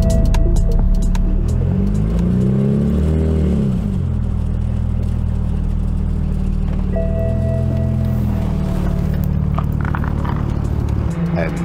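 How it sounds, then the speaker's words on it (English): Stock 2009 BMW 135i before its turbo upgrade, engine rumbling steadily with a couple of rising rev swells, loud and continuous throughout, with faint voices mixed underneath. "this is what it looked like and sounded like back then"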